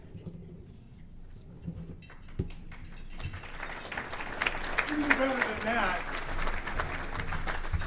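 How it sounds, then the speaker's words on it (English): Audience applause at the 2020 Walnut Creek State of the City event, a crowd clapping that builds from scattered claps into a steady, dense round of applause, with voices faintly mixed in. "Thank you for that rousing round of applause, everybody."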